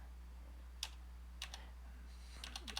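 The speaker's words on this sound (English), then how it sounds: "let me type it" Keys tapped on a computer keyboard while entering Chinese pinyin: a few sparse, quiet clicks, then a quicker cluster of keystrokes near the end, over a steady low hum with no talking.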